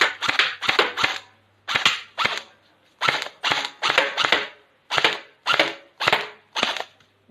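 Bursts of fully automatic gunfire, sharp cracking rapid strings of shots in repeated short volleys separated by brief pauses, fairly close and alone without talk.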